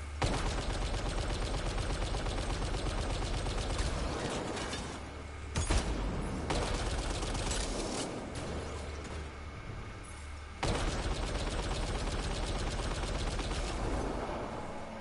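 Four gun turrets in Mass Effect: Andromeda fire long, loud, rapid automatic bursts with brief pauses between volleys and mechanical clatter throughout.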